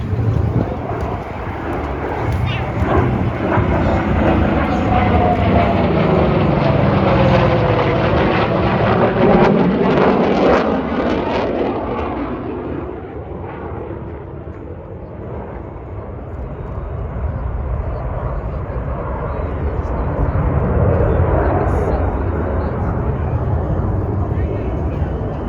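Propeller aircraft from the Tailhook Legacy Flight demonstration at an Oregon air show roar past, the engine drone swelling, sweeping down in pitch as it passes, then fading and returning more distantly, with talk over it.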